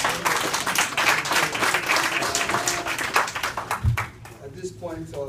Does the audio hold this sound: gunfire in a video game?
no